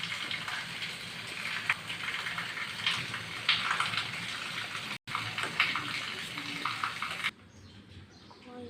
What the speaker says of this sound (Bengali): তাই এখানে আমি পানি দিয়ে দিলাম।